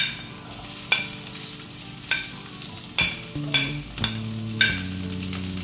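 Onion and garlic frying in cooking oil in a pan, a steady moderate sizzle punctuated by several sharp utensil clinks and scrapes at irregular intervals, with no voices.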